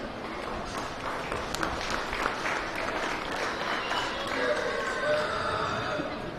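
Applause from the audience at a county fair swine show, a steady wash of clapping hands spread across the whole stretch, fairly close and even in loudness, with some voices mixed into the crowd.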